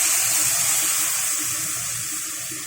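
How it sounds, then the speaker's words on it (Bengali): Water poured into spice masala frying in a pan for a tandoori biryani, a steady hissing, watery rush with a soft bubbling sizzle underneath, close and fairly loud throughout. "এখানে এবার মশলাটা খুব সুন্দর করে ভেজে নেওয়ার পরে আমি দিয়ে দিয়েছি সামান্য একটু জল।"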